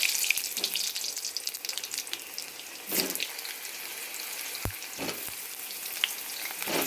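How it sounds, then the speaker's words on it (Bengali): Cut potatoes frying in hot mustard oil with cumin and whole garam masala give a steady, close sizzle throughout, with a few brief clinks and knocks from the pan and no talking. "যেটা হতে থাকুক, তার মধ্যে আমি আলু কেটে রাখা দিয়ে দেবো।"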